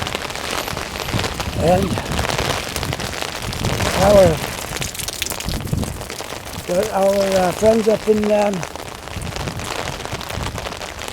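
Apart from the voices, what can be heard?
heavy rain in Halifax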